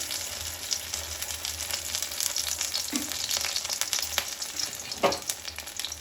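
Oil sizzles steadily in a hot pan, a close, constant crackling hiss with a couple of brief scrapes and knocks partway through, with no voices.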